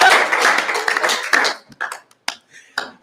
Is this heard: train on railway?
no